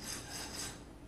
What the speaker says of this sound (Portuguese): Prende, liga a furadeira com a lima.